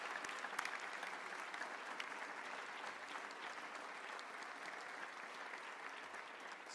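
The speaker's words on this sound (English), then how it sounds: "Please, one final round of applause for an outstanding group of award recipients this evening." Steady applause from an evening audience honouring a group of award recipients for service and leadership to Canada, a dense, even wash of clapping that holds at one level throughout without voices.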